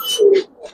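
Old-breed Giribaz pigeon cooing close by, one short throaty coo followed by softer trailing notes, heard alone with no voices.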